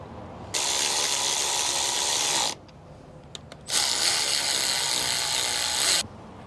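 A ratcheting torque wrench clicks fast and steadily while tightening suspension bolts, in two long close bursts separated by a brief pause with a few isolated clicks.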